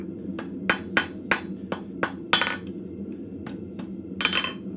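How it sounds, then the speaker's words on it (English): Ringing hammer blows on metal at a blacksmith's anvil in a forge, about a dozen sharp strikes in an uneven rhythm, close and clear with brief gaps between. "I'm gonna go over to my anvil and just make sure everything's straightened out"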